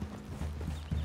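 Horse hooves clip-clopping in Red Dead Redemption 2, a short run of close, steady footfalls over a low ambient bed, with no talking.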